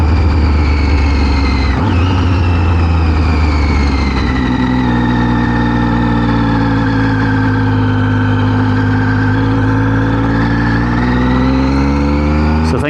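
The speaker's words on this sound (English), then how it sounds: "the raw sound of the motorcycle itself" A Triumph Street Triple motorcycle engine drones loudly and continuously while riding, its steady harmonic tone shifting pitch as revs rise and fall, with no talking over it.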